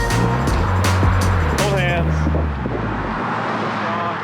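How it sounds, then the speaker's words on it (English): Cars passing on a town street in Marathon in the Florida Keys, several engine drones and tyre rumbles sweeping by close in quick succession, with people talking over them. "Uh-oh, we got a lot of cars coming."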